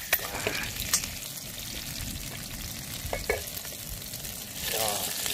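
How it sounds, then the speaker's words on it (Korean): Oil sizzles steadily in a pan while seafood jjapaguri is cooked at an outdoor campsite, a close, continuous frying hiss with occasional utensil clicks and a slight surge near the end. "이 기름 소리가 왜 이렇게 좋을까?"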